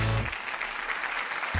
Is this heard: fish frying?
no